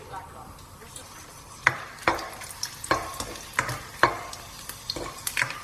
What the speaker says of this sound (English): So once our oil is hot, we're going to add our red chilies.